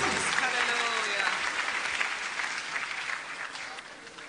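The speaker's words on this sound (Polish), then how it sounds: "Oddajmy Panu oklaski." A church congregation at a Polish evangelistic worship service claps together in a dense, steady round of applause, with some voices underneath.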